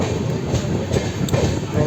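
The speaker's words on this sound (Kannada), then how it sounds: "2 ನಿಮಿಷ ಮುಗಿಸ್ಕೊಂಡು ಇವಾಗ ಟ್ರೈನ್ ಬಿಟ್ಟಿದೆ" A Grand Trunk Express pulling away from a two-minute halt in Madhya Pradesh, a steady close rumble and low rail noise with faint wheel clatter, voices murmuring underneath.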